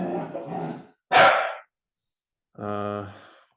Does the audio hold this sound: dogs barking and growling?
yes